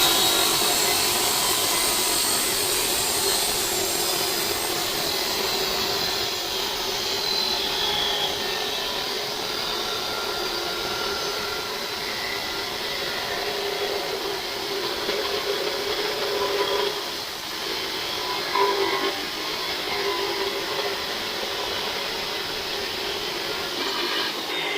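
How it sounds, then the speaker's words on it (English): A Ryobi saw cuts through two steel miters held back to back, giving a loud, sustained grinding whine with a harsh metallic rasp that holds steady for the whole stretch without speech. "if you're cutting 2 miters, put them back to back, put them together and cut"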